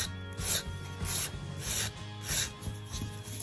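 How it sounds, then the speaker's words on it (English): A nail file rasps across a polygel nail shaped on a paper form. The strokes are close and rhythmic, back and forth, with no talking. "Make sure I'm not filing it too thin at any point."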